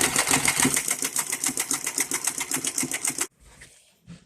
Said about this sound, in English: I'm going to set it to a zigzag stitch where the stitches are close together, and then just start sewing.